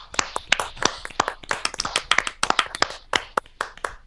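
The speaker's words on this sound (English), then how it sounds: "Quick round of applause." A few people clap during a small, low-budget podcast recording, the sharp individual claps distinct and uneven in rhythm, close to the microphone, with no speech over them.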